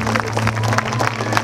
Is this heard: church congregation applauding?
yes